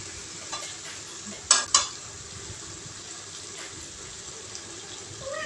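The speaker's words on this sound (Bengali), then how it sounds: "আমি আগে থেকে মশলা বেটে রেখেছিলাম পেঁয়াজ, আদা, রসুন, টমেটো, কাঁচা লঙ্কা দিয়ে ভালো করে নেড়ে চেড়ে কষে নেব" Ground paste of onion, ginger, garlic, tomato and green chili frying in a pan for chicken curry, a low steady sizzle with two sharp knocks of a utensil against the pan partway through.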